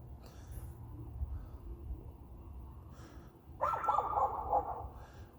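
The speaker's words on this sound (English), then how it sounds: "y'all might hear the neighbor dog barking." A neighbor's dog barks at night in a backyard, a short burst of a few distant barks near the end over faint low background rumble.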